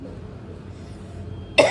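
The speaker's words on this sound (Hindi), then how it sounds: "जब तक हम खांस लें।" A single sharp cough bursts out near the end, loud and close, after a stretch of quiet room noise.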